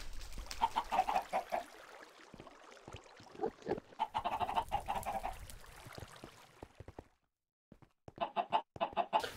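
Chickens in the Minecraft modpack Agrarian Skies cluck in repeated close bursts, go quiet for a moment near the end, then start clucking again.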